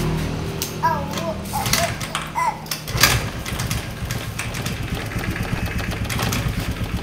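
A Honda Vario 110 scooter engine cranks, starts and settles into a steady close idle, with a brief clatter at the start and a voice talking briefly.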